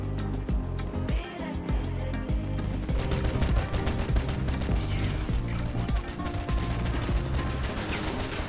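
Reaper guns in the vehicle combat game Crossout fire in a dense, sustained rapid volley of gunfire, loud and continuous with a heavy low-end thump.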